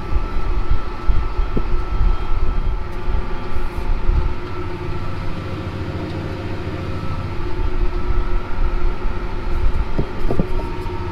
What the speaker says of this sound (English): I'm starting the day out here running Versatile 365 in the J&M grain cart